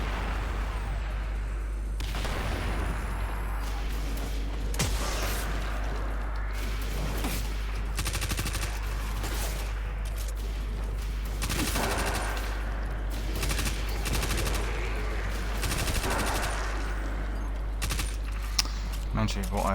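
Gunfire in the video game Destiny 2, a run of sharp, rapid shots and bursts scattered across a busy game soundscape, with occasional louder volleys and a voice talking over parts of it.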